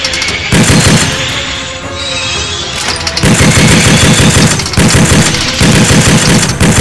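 Vehicle-mounted turret guns roar in a movie action scene, loud sustained bursts of rapid automatic fire with booming impacts, a brief lull, then heavy firing resuming in several long volleys.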